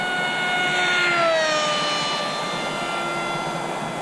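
Steady whining electric motor of an RMRC Strix Goblin model aircraft in flight, a continuous tonal drone with shifting pitch from overhead passes, fairly loud and alone.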